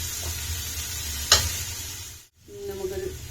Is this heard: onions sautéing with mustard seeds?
yes